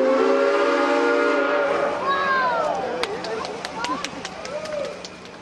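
Santa Fe 3751, a steam locomotive, arrives at San Bernardino, its loud sustained whistle sounding first and then fading into rumbling, clanking rail noise with brief sharp hisses.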